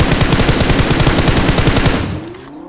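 Rapid automatic gunfire in the mobile battle game BGMI, a loud, dense stream of shots at a fast steady rhythm for about two seconds before trailing off.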